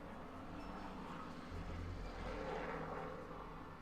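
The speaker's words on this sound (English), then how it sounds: "That looked like a really low-flying plane" Low-flying airplane passing overhead: a steady, broad low rumble and roar that swells slightly toward the middle and holds, fairly faint and distant-sounding, with no talking.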